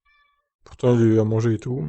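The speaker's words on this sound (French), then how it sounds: "Désolé si vous entendez mon chat depuis tout à l'heure, il arrête pas de miauler." A cat meows loudly and insistently up close, one long drawn-out meow followed by a shorter one, with a brief tone at the start.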